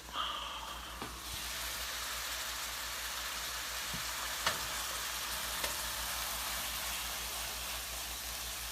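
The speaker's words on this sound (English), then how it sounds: "We're going to cook the bacon for this cheeseburger in that Diet Coke burger" Bacon frying in leftover Diet Coke burger grease gives a loud, continuous crackling sizzle with a few sharp pops and a brief clink near the start, with no talking.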